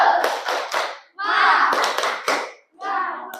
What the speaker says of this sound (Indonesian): tepuk semangat bareng-bareng